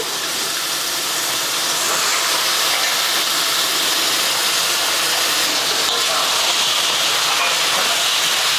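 Raw banana pieces frying on a high flame give off a loud, steady, close hiss that holds almost unchanged throughout.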